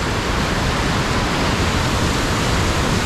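Portage Falls on the Upper Missinaibi River roars in high spring flow, a dense, steady wall of rushing white water heard up close with no break.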